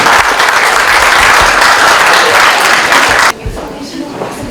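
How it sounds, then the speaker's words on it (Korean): An audience at a crime-prevention rally's award ceremony breaks into loud, dense applause for a prosecutor, sustained for about three seconds before cutting off abruptly into quiet room tone. "시상에 수고하신 검사님께 큰 박수를 부탁드리겠습니다."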